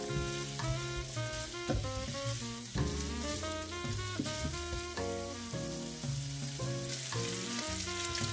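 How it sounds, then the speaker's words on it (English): Sausage and onions sauté together in a pot, giving a continuous soft sizzle and crackle beneath steady music, with no talking. "add a few of my onions in with it just to saute them down with my sausage"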